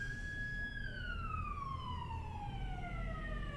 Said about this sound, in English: Cue siren, literally just the fire truck just pulled out of the driveway